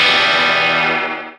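A single guitar chord rings out through a Hubcap John custom distortion effects pedal, loud and gritty, sustaining briefly before quickly decaying to silence.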